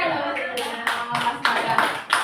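Scattered hand claps from a small group at an indoor teachers' meeting, landing as irregular separate bursts over a murmur of voices rather than a steady roll of applause.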